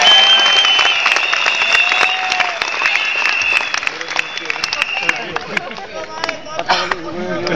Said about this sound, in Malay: Kita bagi tepukan untuk diri sendiri tuan-tuan.